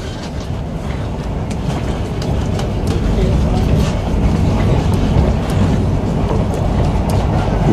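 Highland Chieftain train running on the Highland mainline railway, a loud continuous rumble with rhythmic rail clatter heard from inside the carriage, with people talking underneath.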